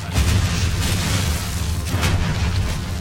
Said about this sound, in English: Your team has destroyed a right enemy tower.